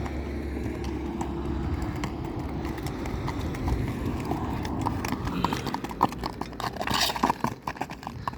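Hooves clip-clopping at a walking pace on hard ground, steady and fairly close, over a low background hum.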